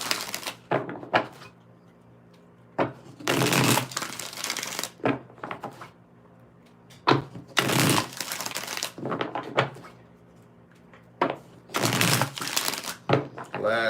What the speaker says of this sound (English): Last shuffle, last one.